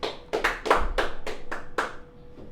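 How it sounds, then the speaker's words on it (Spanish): A church congregation gives a short round of applause during a Spanish-language service, with about half a dozen sharp, fairly close claps sounding alone and fading out quickly. "Démosle un aplauso al Dios de la gloria."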